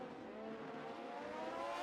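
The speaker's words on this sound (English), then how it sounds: "Lovely little shot of the cars going through." Formula 1 cars at the Hungarian GP sweep by in a continuous, fairly loud engine whine and rumble that rises slightly over the brief moment, with no talking.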